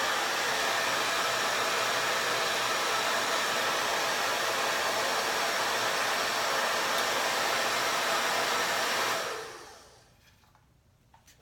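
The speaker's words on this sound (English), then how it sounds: "Load up that diffuser." Hair dryer fitted with a diffuser blowing steadily and loudly while drying hair, a continuous whooshing roar for about nine seconds before it cuts off and fades into quiet.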